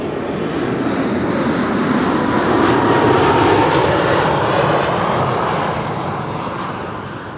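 A fixed-wing airliner arriving at Amsterdam Schiphol Airport makes a steady, loud engine roar that swells slightly midway and then eases off, heard alone with no voices.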